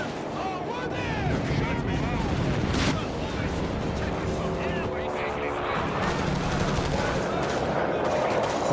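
Machine gun and rifle fire in the World War strategy game Company of Heroes 3, with bursts and shots rattling over a dense battlefield din and vehicle rumble while someone talks over it.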